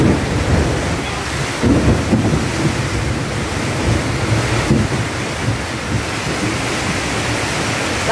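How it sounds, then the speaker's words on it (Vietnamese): Gusty storm wind buffeting a closed door: a loud continuous roar with a few heavier surges and dull knocks, close to the microphone, with no clear speech. "đây này mình đóng cửa mà gió giật này mọi người"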